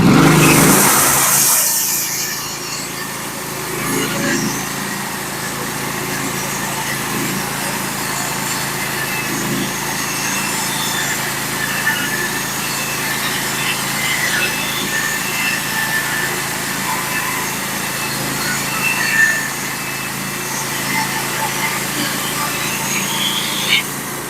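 A Norwood HD36v2 sawmill, running damaged, cuts 14-foot-long, 5/8-inch boards: a steady engine drone and blade whine keep going with little change in level, after a brief louder burst at the start, and no talking.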